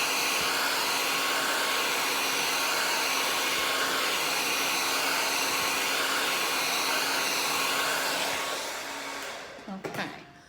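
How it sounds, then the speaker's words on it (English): Loud, steady roar of a hair dryer aimed at wet paint on an alpaca painting, running close and unbroken before tapering off near the end, followed by a few handling knocks. "let that dry or use your hair dryer."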